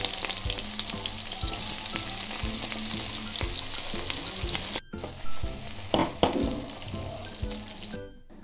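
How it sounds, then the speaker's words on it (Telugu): Round raw banana slices frying in hot oil in a pan give off a loud, dense, continuous sizzle, briefly cut off and then resuming with some stirring clatter. "ఆయిల్ హీట్ అయ్యాక బనానా పీసెస్ మనం ఇలా రౌండ్గా కట్ చేసుకుని వేసుకోవాలి"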